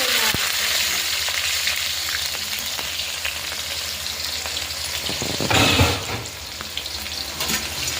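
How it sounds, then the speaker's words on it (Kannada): Cumin seeds and onion frying in a pan for egg rice, giving a steady broadband sizzle throughout, with a louder crackling burst near the middle as more onion goes in and occasional stirring clicks. "ಫಸ್ಟು ಒಂದು ಬಾಣಲಿಗೆ ಜೀರಿಗೆ ಹಾಕಬೇಕು. ಆಮೇಲೆ ಸ್ವಲ್ಪ ಈರುಳ್ಳಿ ಹಾಕಬೇಕು."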